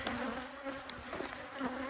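Honey bees from a swarmed hive buzzing in a dense, continuous drone, steady and fairly close, with no voices.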